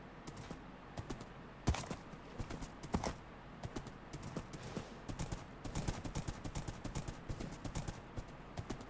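Horse hooves clip-clop steadily in a video game, a quick rhythmic run of hoofbeats that stands alone at moderate loudness with a few sharper louder thumps along the way.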